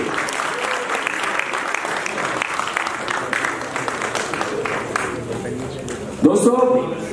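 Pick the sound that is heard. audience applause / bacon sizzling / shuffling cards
audience applause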